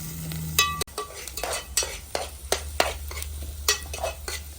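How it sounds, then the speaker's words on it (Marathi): An onion and garlic mixture roasts in a pan over a wood-fired clay stove, a soft steady sizzle broken by repeated scraping stirs at a regular rhythm, close and moderately loud, no voices. "कांदा आणि लसूण यांचं एकत्रित मिश्रण या ठिकाणी चांगलं भाजून घ्यायचं"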